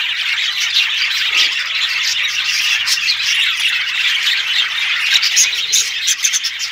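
Parrot chicks, fallow-mutation nestlings, squawking in a nest, a loud, continuous, harsh chorus of shrill begging calls heard up close with no pauses.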